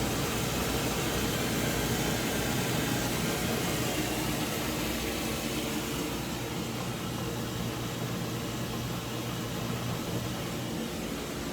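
A washer and dryer run together in a laundry room, making a steady, loud broadband whir and hum that holds without a break and eases slightly partway through.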